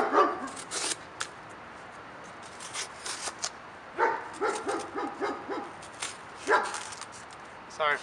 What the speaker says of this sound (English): Sorry for the barking. Got a German Shepherd over there.